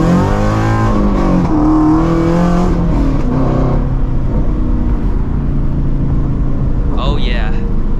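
A Shelby GT350 on drag radials launches hard in first gear, a loud close engine roar climbing steeply in pitch then easing off, with brief talk near the end.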